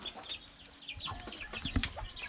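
Backyard hens cluck in short, repeated bursts close by, several birds calling over one another in a quiet yard.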